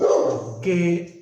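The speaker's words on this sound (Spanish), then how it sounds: "Perdón por el ladrido de mi perro." A pet dog gives a brief bark or yip indoors, close and sharp, overlapping a man's speech during a spoken sermon.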